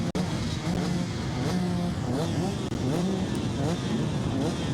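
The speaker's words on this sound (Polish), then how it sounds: "możecie Państwo słyszeć ten hałas e, kolejnych odpalanych motocykli" Several motocross motorcycles start up and rev in rising, whining bursts at a Polish championship race, loud and continuous, with a faint murmur of voices in the background.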